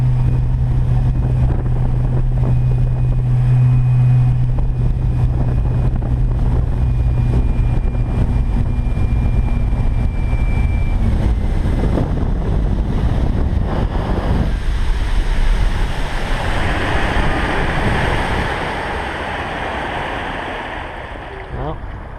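Electric boat cruising at a steady speed on Eiberg Bay on a morning, a continuous loud rush of water and wind noise with a low steady motor hum, easing off slightly near the end.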